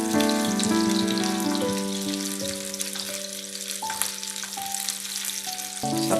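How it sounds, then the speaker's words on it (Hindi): Gola kebabs sizzle steadily in a pan as they are turned from side to side, a constant near frying hiss with a few light clinks and a tonal hum running underneath. "अब हम इसकी तीसरी साइड को भी इसी तरह सब टर्न करेंगे ताकि ये चारों तरफ से फ्राई हो जाए।"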